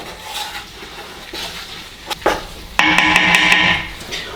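Onions and peppers for ratatouille are stirred in a pot, with soft scrapes and knocks, then a louder stretch of clattering metal against the pot toward the end.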